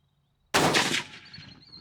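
A single loud rifle shot fired at a groundhog with 4,400 FPS rounds cracks sharply after a moment of quiet, followed by a short fading echo.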